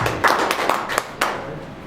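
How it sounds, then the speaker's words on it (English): A handful of scattered hand claps ring out in quick, uneven bursts over a low murmur of background noise. "Round of applause one more time."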